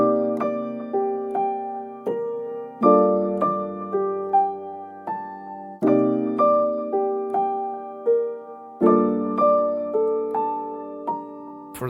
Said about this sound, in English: with all the effects added now, the piano sounds a little bit more sweet